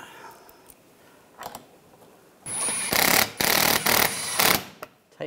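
A power tool tightening bolts on a 2013-2016 Dodge Dart 2.4L L4 engine during a serpentine belt job, with loud whirring bursts repeated in quick succession after some quieter clicks and handling noises.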